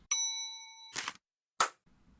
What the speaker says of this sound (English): ring that bell so you don't miss any future episodes